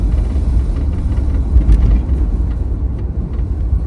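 Steady low rumble of a 1987 Chevrolet IROC with its 5.7 V8 exhaust while driving along at low speed, a continuous droning growl with no voices over it.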